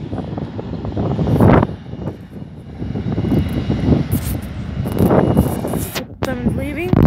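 A Boeing 777 takes off near LAX, its broad engine roar swelling and fading across the whole stretch with wind buffeting the microphone and someone talking over it.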